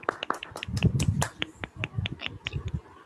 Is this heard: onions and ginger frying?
no